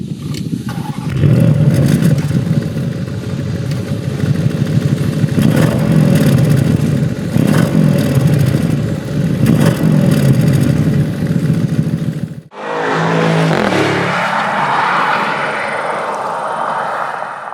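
A Bentley Flying Spur V8 engine and exhaust rumble loudly and steadily for about twelve seconds, then cut abruptly to a brighter, lighter engine note with a brief dip before settling.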